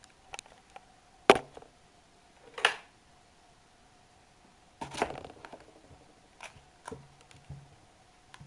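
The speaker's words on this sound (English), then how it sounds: "We will now get into discourse with the food by taking a knife and cutting it into pieces" A knife cuts food into pieces with a few sharp, isolated chops and taps spaced apart, close and crisp against a quiet background.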